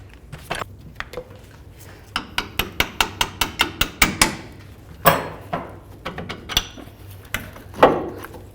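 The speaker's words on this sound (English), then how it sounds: "remove the lower bolt right here, using 18 on this side and a 21mm on the nut side" Wrenches work the lower bolt of a rear shock on a 1992-99 GMC K1500 truck, an 18mm on the bolt and 21mm on the nut, giving a run of sharp metallic clicks and taps in quick bursts, close and without speech.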